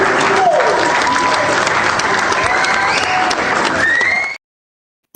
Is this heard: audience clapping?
yes